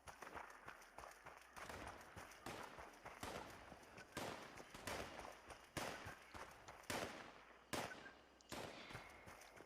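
Gunfire in the post-apocalyptic game Fallout 76: a steady series of sharp, fairly close shots, roughly one every half second to second, over a busy background rumble.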